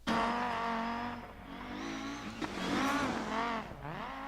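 Audi Sport Quattro S1 E2 rally car engine in the racing game DiRT 4, a loud, raspy engine rising and falling through revs and gear changes, with brief tire squeal, heard alone with no talk.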